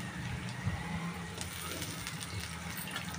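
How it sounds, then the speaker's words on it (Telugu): Spices sizzling in hot oil in a pan for tomato rice with salt, turmeric and ginger paste, a steady close crackling hiss running throughout without pause. "వేగుతుంది ఫ్రెండ్స్ బాగా"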